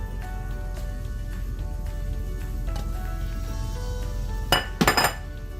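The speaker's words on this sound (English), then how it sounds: "We're going to stir this really well and add our broccoli and egg mixture here." Utensil stirring broccoli and egg mixture into lo mein in a pan, with light scrapes and taps over a steady background hum, then a few sharp, louder metallic clinks near the end.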